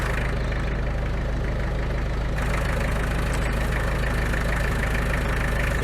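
Tractor engine idling steadily and loudly up close before lifting a heavy flat roller on a farm, a constant low rumbling drone with no pauses or talk.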